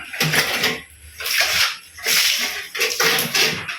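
Water splashed in repeated bursts onto cement on a floor being prepared for tile laying indoors, several loud sloshing throws with brief pauses between them.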